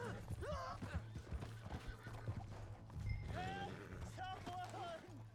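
Horse hooves clip-clop and a horse neighs in a video game, with game sounds and a voice talking over them throughout.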